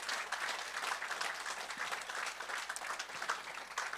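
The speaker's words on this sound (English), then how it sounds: "A huge round of applause." An audience at a conference applauds, with dense, steady clapping from many hands in a room, fairly faint and continuous throughout.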